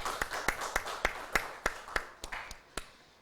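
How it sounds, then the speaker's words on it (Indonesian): A classroom of students applauding a group after an answer, with sharp separate claps in an uneven rhythm fairly close by, each fading quickly, and no talking over them. "Tepuk tangan dulu untuk kelompok"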